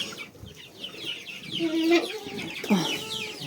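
Young chicks cluck and chirp softly and close by, a continuous busy flock murmur with a few louder clucks.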